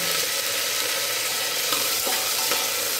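Potatoes frying with hing (asafoetida) inside a pressure cooker give a steady, dense sizzle throughout, close and loud, with a few faint stirring scrapes and no talk.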